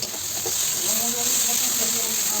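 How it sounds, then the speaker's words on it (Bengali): Chopped tomato hits a pan of ginger, garlic and green chili paste and fries with a loud, steady sizzle and hiss, close up and continuous throughout. "ভালো করে একটু কষিয়ে নেব। দিয়ে দিচ্ছি টমেটো কুচি।"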